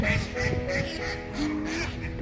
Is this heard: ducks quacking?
yes